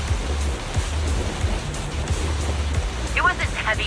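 Rain falls steadily in the video game Zenless Zone Zero as a dense, continuous patter under low musical tones, with a brief voice sound rising near the end.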